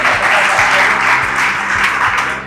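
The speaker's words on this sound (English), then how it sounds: "give her a round of applause" Applause from a medical quiz audience for a contestant in a college final round, steady dense clapping throughout, loud and close, with no talk over it.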